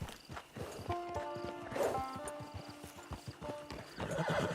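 A horse in the game Red Dead Redemption walks with a steady clip-clop of hooves and gives a couple of whinnying neighs, all fairly quiet and close, with no talking.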